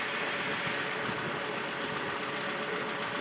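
A 2013 Scion tC engine idling with the clutch pedal pressed in, giving a steady, loud, even mechanical rumble and whir that stays constant throughout, with no voices.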